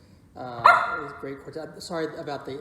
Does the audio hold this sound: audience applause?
no